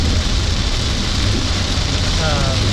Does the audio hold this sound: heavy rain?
yes